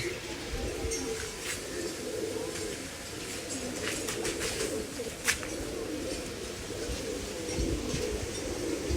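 Large pigeons kept in a loft coo softly in low, repeated phrases against a steady background hum, with faint bird chirps and brief clicks scattered throughout.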